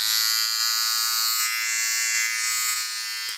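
Kemei 2299 electric hair clipper running steadily, a close high-pitched motor buzz with bright whine, holding even for a few seconds before cutting off abruptly at the end.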